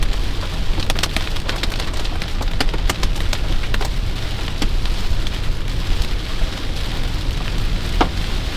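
Steady rain pours down during an Oklahoma supercell thunderstorm, a dense constant hiss with scattered sharp drop impacts striking nearby surfaces, and no voices.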